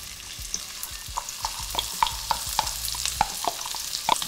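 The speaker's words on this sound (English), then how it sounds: "And now we add in 2 medium onions diced." Two medium diced onions sautéing in hot oil with toasting spices for black-eyed peas and rice, a steady close sizzle with frequent sharp pops and light stirring scrapes.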